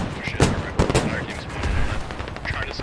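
Heavy automatic cannon fire from an LAV armored vehicle during a large Marine invasion in a military video game, with repeated loud shots and booming blasts over a dense battle din, and voices talking amid the fighting.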